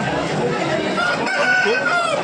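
A rooster crows amid a busy chorus of clucking and crowing chickens at a poultry market in Gokavaram, loud and close with constant background noise.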